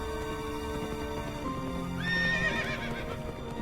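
A horse in the video game Minecraft gives a clear whinny that rises and falls over a few seconds, heard close and alone with faint hoof clops.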